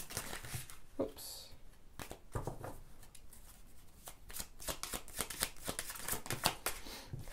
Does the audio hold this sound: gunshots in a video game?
no